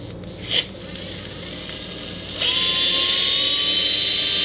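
A DeWalt cordless power tool is handled with a few clicks, then spins up and runs with a steady high-pitched whine that starts slow and rises in pitch.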